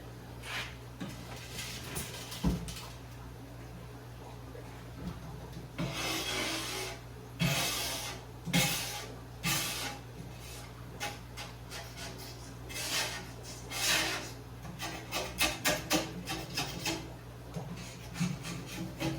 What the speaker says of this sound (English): I don't know if I can describe the process of scraping these tanks